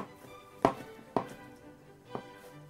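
Three separate knife chops on a cutting board while dried porcini mushrooms are cut for a sauce, sharp close thunks spaced about half a second to a second apart in a quiet kitchen.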